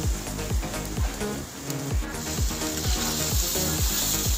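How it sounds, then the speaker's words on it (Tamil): Green chilies, mint and coriander sautéing in a pot for biryani, a steady sizzle under repeated rhythmic scraping strokes of a spoon against the pot. "எல்லாத்தையும் பாத்திரத்தில் சேர்த்துட்டு நல்லா வதக்கிக்கோங்க"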